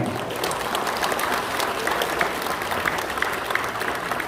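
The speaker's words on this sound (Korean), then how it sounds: "박수 한번 주세요" Steady applause from an audience at a party member training session in Changwon, dense clapping sustained throughout at an even level with no break.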